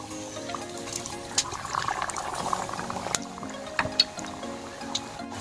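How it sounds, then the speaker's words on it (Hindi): Methi mathri deep frying in hot oil, with a soft continuous bubbling sizzle and scattered pops and crackles at close range. "तो ऑयल गरम है, अब चलिए मेथी की मटरियों को फ्राई करना स्टार्ट करेंगे।"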